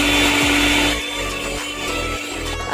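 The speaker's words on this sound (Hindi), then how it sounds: "1 अदद मैंगो को बगैर दूध और पानी के जूसर में ग्लेंड कर लें।" A juicer blends a whole mango without milk or water, a loud, close motor whir that dips and surges as the fruit is chopped, with no talking.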